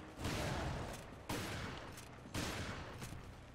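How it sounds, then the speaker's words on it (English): Gunfire from the Resident Evil Revelations video game, heard as three heavy, dense bursts of shooting about a second apart, each blast fading before the next and sounding fairly distant and muffled. "Try shooting them in those, like, exposed gut areas."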